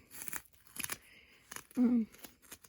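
A pantyliner wrapper is unwrapped and its backing peeled, giving soft crinkling and a few short tearing rustles, close and quiet.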